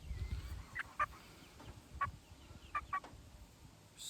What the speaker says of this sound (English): A frizzle Cochin bantam.